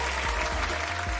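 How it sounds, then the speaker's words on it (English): A small audience claps during a live-streamed talk on time management, giving a brief, fairly loud burst of applause without speech. "Thank you for applauding."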